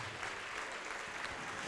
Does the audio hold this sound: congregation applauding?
yes